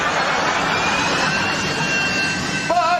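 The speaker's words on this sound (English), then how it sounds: "there's the jet engine in your bathroom. It's actually the fan which comes on when you turn on the light." A bathroom extractor fan that switches on with the light gives a steady, loud, jet-like roar and whoosh throughout, with a brief warbling whine near the end.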